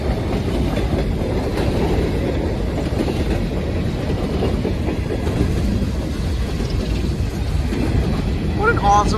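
Norfolk Southern freight train with hopper cars moving fast along a siding on the Pittsburgh line, a continuous loud rumble and rattle of passing cars with a voice talking over it.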